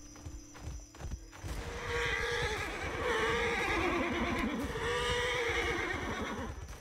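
Horses in the Roblox video game whinny repeatedly over a steady, dense patter of hoofbeats that clip-clop continuously and fairly loud throughout.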